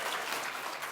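An evening audience of Aggies at an entrepreneur leadership talk claps together, a dense, steady wash of hand claps filling the hall from start to end.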